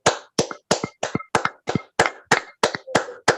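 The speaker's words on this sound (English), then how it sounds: "I want us to give a round of applause to them all." About ten slow, evenly spaced claps from one or a few people at a Toastmasters club meeting, crisp and close, each separated by silence.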